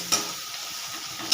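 Salt, turmeric and chili powder being stir-fried in a pan for a small crab curry, giving a steady soft sizzle with faint scraping of stirring, alone and without talk.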